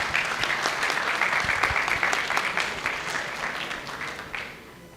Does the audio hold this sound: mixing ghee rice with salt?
no